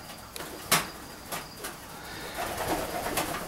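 White racer pigeons in a pigeon loft give soft, scattered coos and wing rustles, with a few sharp flutter bursts standing out against low background noise.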